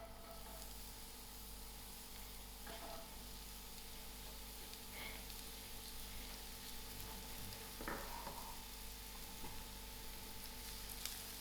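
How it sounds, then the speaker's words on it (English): Onions frying in two tablespoons of oil in a pan, giving a faint, steady sizzle and hiss with a few soft clinks, no voices. "I'm going to allow these onions to fry till it's turning brown"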